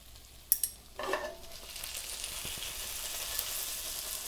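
Gyoza shaken in a hot nonstick pan: a couple of sharp knocks and a brief rattle, followed by a steady, fairly quiet sizzle that carries on to the end.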